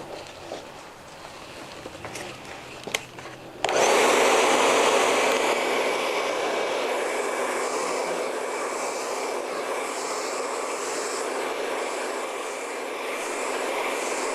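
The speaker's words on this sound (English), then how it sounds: "So now I'm going to blow dry her out before we start the flat ironing process." A hair dryer switches on partway through and blows loudly and steadily on hair for the rest of the time, a broad close whoosh with no speech. Faint handling sounds come before it starts.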